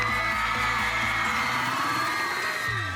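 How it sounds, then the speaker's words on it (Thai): An audience at a Thai talent show cheering and whooping loudly, a dense continuous crowd roar with music running underneath. "ขอเสียงปรบมืออีกครั้งหนึ่ง"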